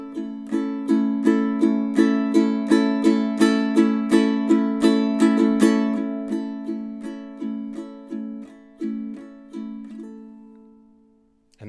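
Ukulele etude melody strummed in steady repeated strokes, swelling in a crescendo then fading in a decrescendo to a quiet finish, played alone.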